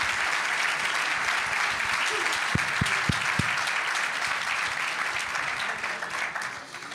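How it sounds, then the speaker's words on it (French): Steady applause from a studio audience on a Walloon talk show, dense and continuous for the whole stretch, with a few sharp tonal beeps cutting through partway and the clapping thinning slightly at the end. "une tonne d'applaudissements pour que ça démarre à du 200 à l'heure pour notre ami Wally"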